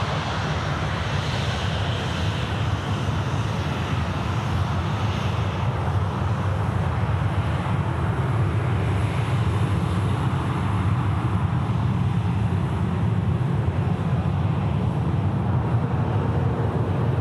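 A jet airliner taking off at Sydney Airport produces a steady, broad engine roar that rumbles low and holds a strong, even level the whole time.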